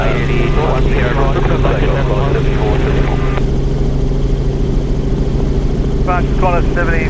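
A Qantas Boeing 747 airliner taking off and climbing: a loud, steady engine drone with a deep hum runs throughout, while radio voices talk over it in bursts.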